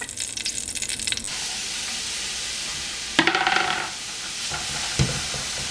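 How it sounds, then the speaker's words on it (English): Sliced beets drop into a hot pan of olive oil and sizzle, with a burst of hissing and a few stirring scrapes and clinks over a steady frying crackle. "as soon as this starts sizzling, time to add the beets"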